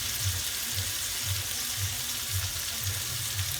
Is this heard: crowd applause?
no